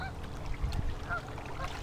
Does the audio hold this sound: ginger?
no